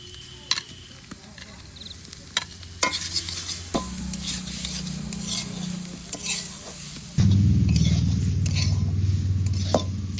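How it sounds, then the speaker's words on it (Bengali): Grated coconut frying in a pan with ghee, stirred with a utensil that scrapes and knocks against the metal, over a continuous sizzle that grows louder and denser partway through, with no voices. "এই নারকেলটা এখন ভেজে নিচ্ছি।"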